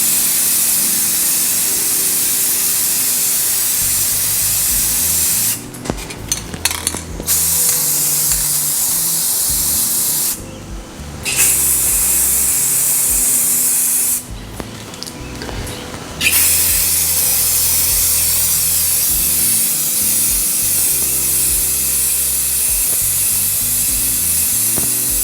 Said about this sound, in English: Now, you might be tempted to carry on spraying.